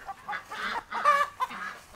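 Rhode Island Red breeder chickens on a farm cluck in several short bursts across two seconds, with a few sharper calls standing out and no one talking.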